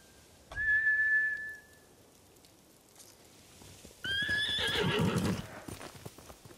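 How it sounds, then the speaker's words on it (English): Horses in the video game Ghost of Tsushima give two loud whistling neighs with hoof clatter around them, the second whinny rougher and longer, heard close against a faint outdoor background. "Bastards scared off the horses."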